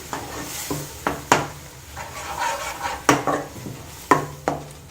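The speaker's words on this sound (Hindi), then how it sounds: "इसको हम जब तक भूनेंगे जब तक कि हमारी ग्रेवी ऑयल ना छोड़ने लगे" A spoon scrapes and clanks against a pan while paneer masala gravy is stirred and fried, giving repeated sharp knocks over a steady background sizzle.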